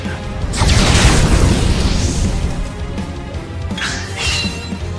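Fire spell attack in Octopath Traveler II: a loud, sustained roaring burst that swells quickly and fades slowly, with crackling, shattering layers and a second flaring whoosh near the end.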